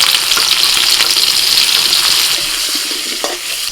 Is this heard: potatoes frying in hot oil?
yes